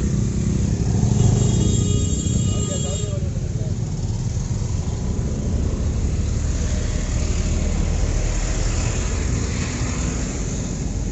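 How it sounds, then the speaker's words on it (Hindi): A car engine labouring uphill on the Khandala ghat, struggling for power, with a continuous strained drone and road noise throughout while people talk inside the vehicle. "थोड़ा पावर ही नहीं दे रहा गाड़ी।"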